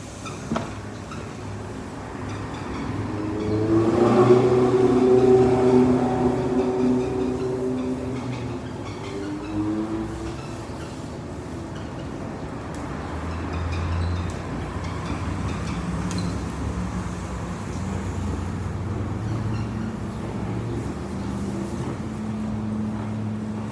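A dustless floor sweeper rolls back and forth across a floor in a few passes, a low, continuous rumbling whir that swells briefly early on, then settles into a steady, moderate drone with no voices.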